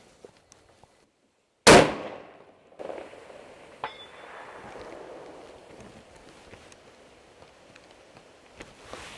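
A single loud, sharp rifle shot fired at a small target 550 yards away, with the muffled report of the bullet striking the distant target following a couple of seconds later, then quiet outdoor ambience.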